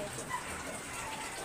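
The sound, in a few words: morning rain falling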